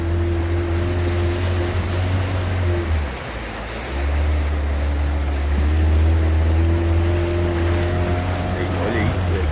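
A motorboat runs up the Jatapu river, its engine a loud, steady low drone that cuts out for about a second midway before resuming, with water and wind noise around it.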